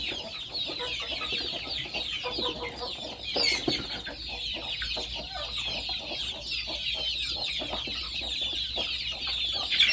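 Chickens cluck steadily throughout, several birds close by in a busy overlapping chorus with no talk.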